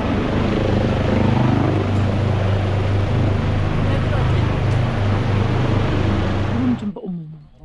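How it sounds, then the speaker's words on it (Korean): A loud, steady helicopter roar with throbbing rotor beats fills the scene close overhead, then cuts off abruptly near the end. "헬리콥터가 바로 요 위에서 이렇게 크게 소리내요."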